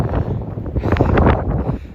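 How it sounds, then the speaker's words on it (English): Strong gusts of wind buffet the microphone on a steep mountain summit during a trail run, rumbling low and surging in uneven bursts with no talk. "really windy, even more than it is right now"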